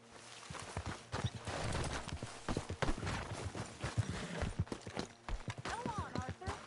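Horse hooves clip-clop in Red Dead Redemption 2, steady steps close by under dense game ambience, with a horse whinny near the end and people talking throughout.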